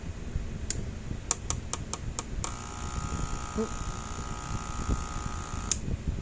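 A faulty Zareba electric fence charger, running after a circuit board repair, gives a burst of rapid sharp clicks, then settles into a steady buzzing hum for a few seconds before another click, quiet and close.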